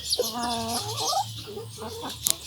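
Neighbours' chickens cluck and make drawn-out throaty calls while pecking at squash outdoors, the sounds close and fairly soft, with a quick sharp tapping burst near the end.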